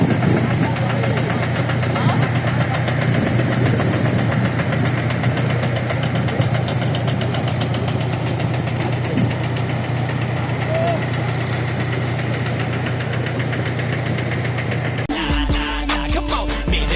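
A large tractor engine idles on a beach with a steady low rumble and knocking vibration, running continuously before cutting to a different, rougher sound at the end.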